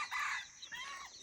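Chickens around a Thai village house give a short, fairly faint burst of clucking and a crow-like call, heard briefly from a little distance with no talk.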